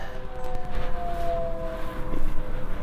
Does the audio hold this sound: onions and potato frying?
no